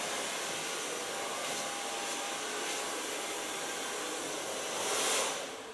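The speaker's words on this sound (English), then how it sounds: "so far blow drying in a straight line" A hair dryer blows long hair straight with a steady, fairly loud rushing whine that holds unbroken, then swells briefly near the end as the nozzle moves closer.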